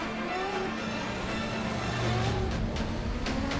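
Car engines in an Xbox game trailer, a steady motor drone with rising and falling pitch sweeps as vehicles accelerate and pass, loud and continuous over a busy mix.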